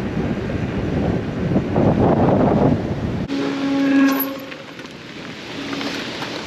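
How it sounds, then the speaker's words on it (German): Heavy wind buffets the microphone during an e-mountain-bike ride between Offensee and Ebensee, in a loud, roaring rush, then eases into a steadier whoosh with faint tonal whines in the background. "aber es ist trotzdem extrem windig"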